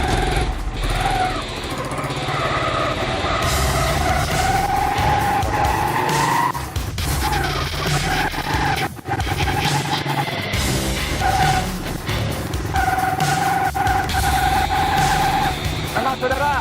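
A motorcycle said to run on water-based fuel roars loudly while being ridden, its engine note rising and falling in sustained revving with gear changes and brief dips, close and dominant throughout.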